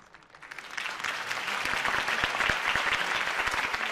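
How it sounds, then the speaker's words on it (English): In Batman: The Telltale Series, a crowd bursts into applause after a campaign speech, the clapping swelling from a scattered start into a dense, sustained roar of many hands. "could have heard that applause"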